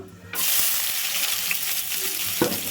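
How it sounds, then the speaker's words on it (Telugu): Chopped onion pieces hit hot oil in a pan, bursting into a loud, steady sizzle that holds evenly close by, with a brief stirring clatter near the end. "ఆయిల్ అయితే హీట్ అయిందండి ఉల్లిపాయ ముక్కలు"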